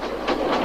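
A locomotive pulling away with its carriages gives a steady, rumbling rattle with soft rhythmic surges, fairly loud and continuous, with no voices.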